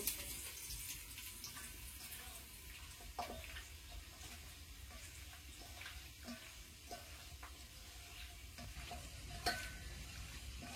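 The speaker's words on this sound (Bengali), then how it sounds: "আদা বাটা, রসুন বাটা না, আর আস্তাড়ি দিবেন না? লাল লাল করে ভাজিব।" Ginger and garlic paste frying in oil for a chicken curry makes a quiet, steady sizzle, broken by soft scrapes and clicks of stirring throughout, with no voices.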